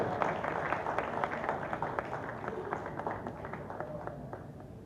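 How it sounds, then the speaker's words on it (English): Dinner-event audience applauding two guest speakers, a steady wash of many hands clapping at moderate level that gradually thins and fades over a few seconds, with faint murmuring underneath. "Please do a big round of applause, shall we?"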